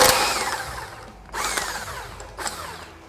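A power tool with a 32mm socket whines in three short bursts, each spinning up sharply and winding down, as it rattles a nut loose on a Y62 CV joint repair.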